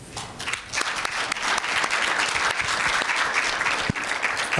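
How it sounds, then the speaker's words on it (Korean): Audience applause welcoming a professor receiving a chemistry society's academic award at a scholarly conference: a loud, sustained burst of many hands clapping that swells quickly and stays full throughout. "큰 박수로 올해 이태규 학술상 수상하신 신재 교수님을 환영해 주시면 좋겠습니다"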